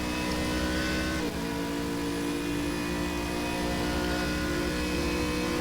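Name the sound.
GT3 race cars racing in video game Stock Car Extreme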